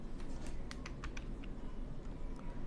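Rapid, irregular typing on a computer keyboard, with a series of light, close clicks over a steady background hiss and no speech.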